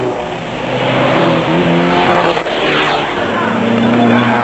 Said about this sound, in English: initially Reinecker held off Cliff Barker and Malcolm Joubert as the Nissan Sari stormed into a commanding lead